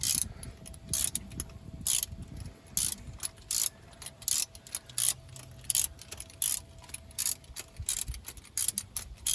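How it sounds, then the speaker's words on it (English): A ratchet wrench tightens a spark plug on a classic 1960 Rover P4 80, its pawl clicking in short repeated bursts with brief pauses, close and crisp, while a low engine-bay rumble hums underneath. "And you can keep ratcheting, tightening it."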